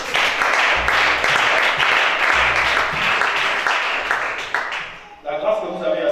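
A church congregation applauds during a worship service, a dense, steady wash of clapping that holds loud for about five seconds, then thins out as voices come through near the end.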